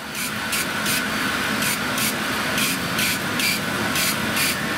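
Laser cutter working through cardboard gives a steady broadband hiss with a regular pulsing brighter rasp repeating about every half second, close and continuous with no voices.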